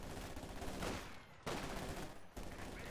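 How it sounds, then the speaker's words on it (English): Bursts of MG42 machine gun fire in a Company of Heroes 2 battle, dense rapid crackling volleys that break off briefly and resume, loud and close, with no talk over them. "baiting into the MG42, making use of infantry as bait for the machine guns"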